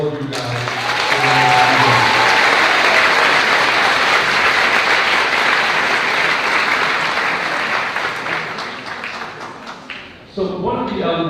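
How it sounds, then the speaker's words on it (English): Sustained applause from an audience at a school district community council award ceremony, broad and steady for about ten seconds before tapering off, with a voice resuming at the end. "a huge round of applause for all of you guys"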